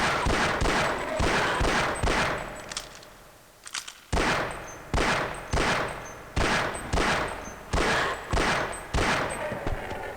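Shotgun blasts fired at a bull squid in Half-Life: Blue Shift ring out as a loud, evenly spaced series of sharp booms, about nine in all, with a brief lull midway.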